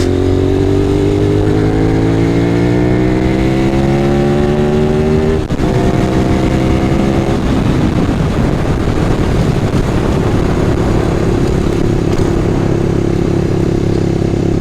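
A Honda VTR 250 motorcycle engine roars steadily while riding, pitch climbing as it accelerates through a gear change, with constant wind noise.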